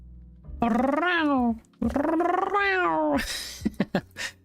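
A person mimics a cat's meow with a rolled R trill, giving two long wavering meows followed by short clicking and hissing mouth noises, close and loud.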